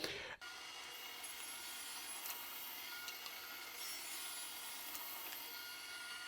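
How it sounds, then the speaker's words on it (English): A saw cuts through a used plywood sheet in a steady, continuous rasping drone, close and moderately loud, after a brief knock at the start. "I'm going to cut this off at 22 inches"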